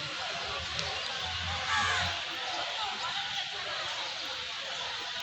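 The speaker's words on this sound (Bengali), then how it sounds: "পাখিদের কলরব চারিদিকে" Crows cawing amid other birds in open city air on an afternoon in Chattogram; a few distant caws over a steady outdoor hum, with no talking.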